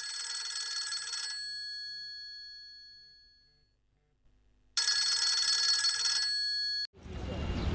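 A telephone rings in two loud, steady bursts separated by a quiet gap, and a harsh burst of noise cuts in at the end.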